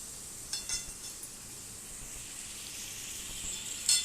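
Onion, tomato and chili sauté in oil and ghee for a vermicelli upma, a soft steady sizzle with a few light stirring clinks and scrapes, close and fairly quiet.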